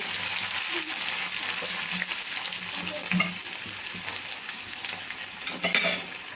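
Cumin, crushed garlic, dried chillies, onion and lentils fry in a pan, a steady bright sizzle with occasional crackles and pops, heard close and alone throughout.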